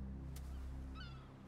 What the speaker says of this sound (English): It has to be a seabird. A seagull?